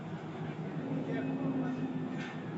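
A train rumbles steadily from inside the carriage, a continuous low hum and rolling noise with a faint tonal whine, with a voice talking faintly over it.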